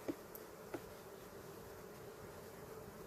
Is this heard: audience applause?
no